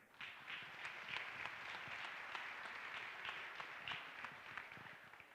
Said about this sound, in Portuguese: eu peço uma salva de palmas ao companheiro Jacques Pena.